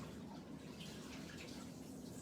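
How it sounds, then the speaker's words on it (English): Water from freshly sliced apples soaked against browning pours off in a steady, close, even rush at home in a kitchen, with no voices. "drain the water off."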